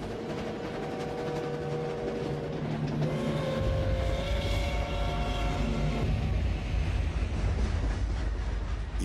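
A train carrying prisoners to concentration camps in Nazi Germany: a loud, rolling rumble that swells after a few seconds into a heavy, steady roar with rattling wheels and sustained tonal layers over it.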